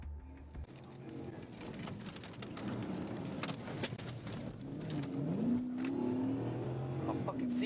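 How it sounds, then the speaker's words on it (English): A fleeing car's engine revs and accelerates away during a traffic stop after the driver refuses to exit, a steady engine roar building in loudness and rising in pitch toward the end. "the driver hit the gas and fled."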